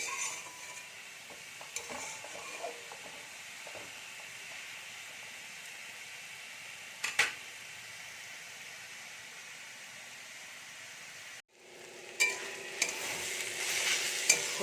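A pot of vegetables for a vegetable chop mixture, with grated beet and carrot, stirred and simmering in a kitchen, giving a steady soft hiss with scattered scraping taps, a brief pause, then louder stirring and sizzle.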